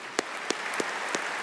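Light applause from an audience at the Zlatna Bubamara 2026 music show for the singer, soft steady clapping with a few sharper individual claps standing out.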